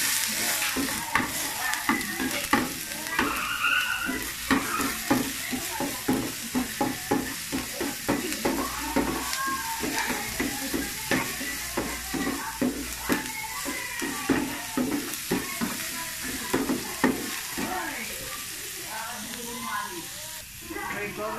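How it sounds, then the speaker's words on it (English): Garlic and ginger fry in a tablespoon of oil for pork broccoli, a steady sizzle with repeated stirring scrapes in an even rhythm, with talk over it at times. "Then we're going to fry the mixture of garlic and ginger."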